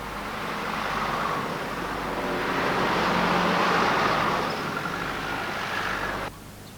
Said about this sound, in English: he stands among the noise and fumes of the heavy London traffic as it roars round Trafalgar